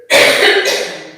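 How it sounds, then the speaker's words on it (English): A single big forced cough during a yoga exercise, open-mouthed and breathy, loud and close, lasting about a second and trailing off alone. "big cough."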